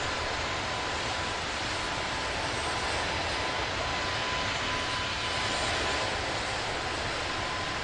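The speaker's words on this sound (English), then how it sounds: "I'm gonna zip it so you can hear this plane for a minute." Engines of a Spruce Goose seaplane in a flight simulator game, a loud, constant droning roar that holds steady throughout with no talk.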